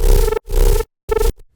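A glitched, resampled bass sample from the Simplant plugin plays as three loud, buzzy, abruptly cut bursts with brief silences between them, followed by a faint tail.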